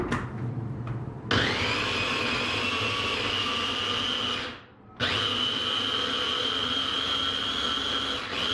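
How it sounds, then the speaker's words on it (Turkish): A kitchen food processor grinds tomatoes with a loud, steady motor whir that runs, briefly cuts out, then starts again and continues. "Domateslerimi rondodan çekeceğim."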